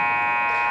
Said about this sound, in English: So we got the buzzer to bring them back out.